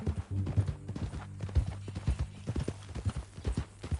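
Horse hooves clip-clop on the ground in Red Dead Redemption II, a steady walking rhythm of fairly close, distinct hoofbeats with only a faint background behind them.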